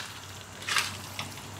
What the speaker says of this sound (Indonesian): Ini kita goreng-goreng sebentar lagi